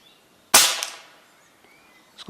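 An air rifle fires a single .177 pellet at a 40-yard target, a sharp, loud, close crack with a fading tail and a faint later tick.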